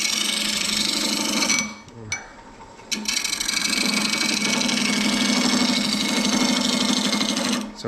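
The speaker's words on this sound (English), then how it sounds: "I'm going to use a skew scraper. And we'll just scrape that around there." A skew scraper rides against a myrtle wood bowl spinning on a lathe, giving a loud, continuous rough scraping hiss with the motor's hum underneath, broken by two brief pauses.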